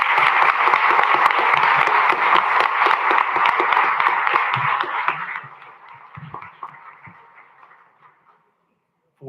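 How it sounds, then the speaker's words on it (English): Audience applause for former elected officials at a council meeting, dense and loud for about five seconds, then thinning into scattered claps and fading to near silence. "give the former elected officials a round of applause for their service"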